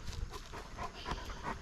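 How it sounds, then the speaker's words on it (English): Dogs pant close by after a compact excavator shuts down, a steady breathy rasp with faint whimpers over low rumbling outdoor noise. "the dogs come to check things out"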